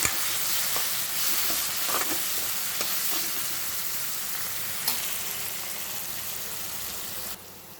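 Spices with turmeric and salt sizzle steadily in a frying pan for a beerakaya curry, with soft scraping and clicking from stirring scattered throughout before the sizzle suddenly drops away at the end.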